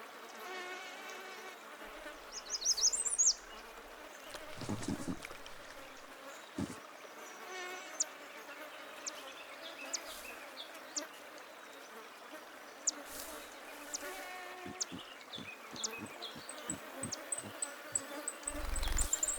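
Mosquitoes and other insects whine and buzz steadily close by in cool, wet northern wilderness weather, with sporadic thumps and rustles breaking through the thin, persistent drone.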